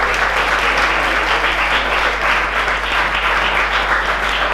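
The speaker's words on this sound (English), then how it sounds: "Can you have a round of applause?" An audience at a prize distribution ceremony claps in a dense, steady round of applause, loud and sustained throughout with no talk over it.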